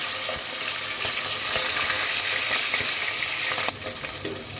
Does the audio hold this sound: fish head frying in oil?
yes